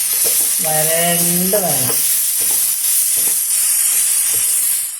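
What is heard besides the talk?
ingredients frying in oil in a pan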